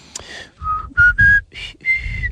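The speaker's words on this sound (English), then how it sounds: "that's a bad whistle" A person whistles a short, wobbly tune in a playful, innocent manner, several breathy tones rising to a high part that cracks and fails to come out cleanly, close and clear with no talking.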